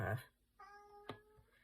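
A cat gives a short meow right after a burst of human speech, fairly faint, followed by quieter background sounds.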